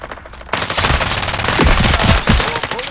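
Machine gun fire in the FragPunk video game opens after a brief quiet moment into a loud, rapid, sustained burst of close shots with a few heavier thumps mixed in.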